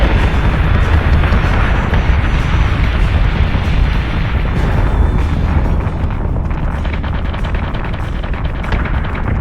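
Warship gun batteries fire in a space battle in Battlestar Galactica Deadlock, a loud continuous barrage of heavy booms and rumbling blasts with no break.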